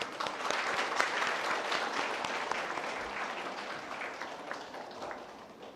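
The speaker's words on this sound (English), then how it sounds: "Let's be a little kind-hearted and clap loud." Audience clapping at a school event at KiiT International School, a lively patter of many hands that starts strong and gradually thins and softens toward the end.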